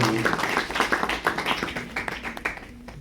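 Audience clapping at a book launch event, a quiet, fairly sparse round of hand claps with an uneven rhythm that fades toward the end.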